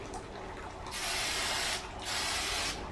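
Silver spray paint hisses from an aerosol can with a cracked nozzle, in two loud, steady bursts of about a second each separated by a short pause, over faint background noise and with no talking.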